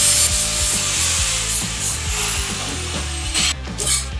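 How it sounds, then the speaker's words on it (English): A flap disc on an angle grinder smooths the sharp edges of scrap metal shovel wings, a loud steady abrasive grinding whine with a rhythmic rubbing pulse as the disc passes over the edges, continuous and close. "go back with my flap disc, clean up any of these sharp edges."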